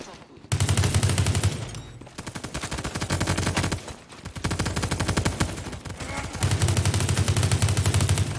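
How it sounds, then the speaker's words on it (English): Rapid automatic gunfire rattles in long, loud bursts in the shooter game World War 3, with brief gaps between volleys and heavy continuous firing near the start and end. "All the sounds from gunfire to grenade explosions to vehicle cannons are just so underwhelming."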